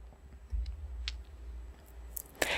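A single sharp mouse click sounds near 1.1 seconds, with a few fainter clicks and a louder tap near the end, over a quiet room hum.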